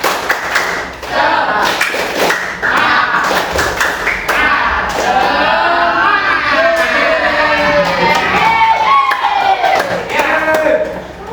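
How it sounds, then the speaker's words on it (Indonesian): Classroom group doing a rhythmic spirit clap, a series of quick, loud, patterned claps and thumps up close, followed by children chanting together in unison. "Tepuk semangat"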